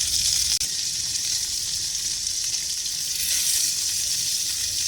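Tomatoes frying in a skillet give a steady, close, even sizzle that holds throughout with no talking, broken only by one short dip early on.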